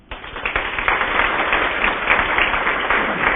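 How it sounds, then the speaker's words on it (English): Audience applause at a human relations awards ceremony for the nominees, a dense steady wash of many clapping hands that swells quickly and holds at an even level throughout. "So if we could all give them a moment of applause."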